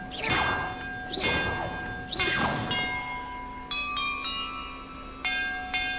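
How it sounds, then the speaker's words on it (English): Bells rung one after another in Hogwarts Legacy: three loud clanging strikes with long ringing tails, then a quicker run of lighter, clear tuned chimes at varied pitches, close and with no talk. "About the order I'm supposed to ring the bells"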